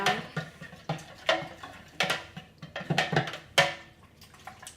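Jello being stirred with a cup of cold water in a bowl, a series of irregular clinks and sloshing scrapes of a utensil against the dish, close and moderately loud.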